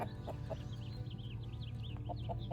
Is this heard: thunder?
no